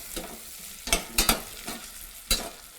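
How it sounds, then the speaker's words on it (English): Mirepoix and potato sautéing in a pan, a soft low sizzle punctuated by a few sharp utensil scrapes and clacks, close by with no talk. "So I just saute mirepoix with potato"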